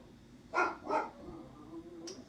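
A dog barks twice in quick succession, faint and somewhat distant, behind a quiet indoor yoga session, followed by a soft whimpering tone.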